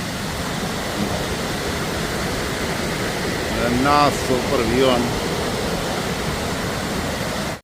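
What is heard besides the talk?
waterfall in forest near Alyth, Scotland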